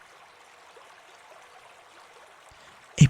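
Flowing river water makes a soft, steady trickling hiss that stays faint and even throughout, then a brief loud thump lands right at the end.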